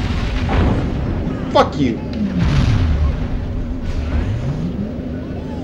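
Anti-aircraft missiles explode in the Destroy All Humans! video game, with several booms and swooping whooshing tones over a steady game rumble while a player speaks over it.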